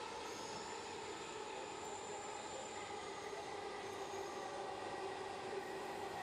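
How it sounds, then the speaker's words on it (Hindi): A Delhi Metro train races along at high speed between stations with its doors open, giving a steady, loud rumble and roar of wheels and wind that runs unbroken throughout, with no talking. "अर्जनगढ़ से घिटोरनी तक 2 किलोमीटर तक तेज़ रफ्तार से दरवाजे खुले रहे और मेट्रो दौड़ती रही"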